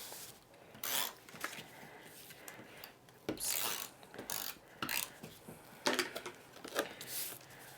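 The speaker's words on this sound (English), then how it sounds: "I'm just going to use some double-sided tape" Double-sided tape being pulled and pressed onto cardstock, a series of short crackling rips and rubs in irregular bursts, close and fairly quiet.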